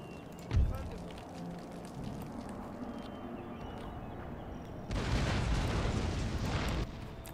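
Artillery firing canister shot in Empire Total War, defending Athens: a sharp, heavy boom near the start, then a steady rumble of battle, swelling into a louder broadband roar of blasts toward the end.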